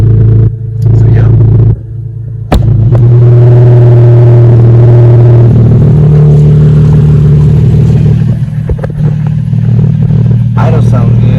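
A Nissan 350Z engine idling nearby, a loud steady low rumble with a deep droning hum, a brief dip early on, and some rattling clatter over it.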